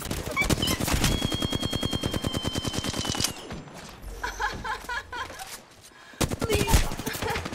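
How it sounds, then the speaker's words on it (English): Rapid automatic gunfire aimed at the player in the video game Apex Legends, a dense run of close, loud shots for about three seconds, then a lull with scattered mechanical and ambient game sounds before another short burst. "I am taking fire, friend."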